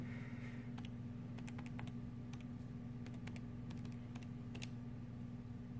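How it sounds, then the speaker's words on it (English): Numbers are typed on a computer keyboard and enter is pressed, quiet scattered key clicks in short clusters over a low steady electrical hum. "So I hit enter once I typed it in."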